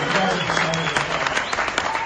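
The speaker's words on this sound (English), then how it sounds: "Big round of applause for you." Audience applause at a business strategy presentation in Phuket, a steady dense clapping that carries on under a speaking voice for the whole stretch.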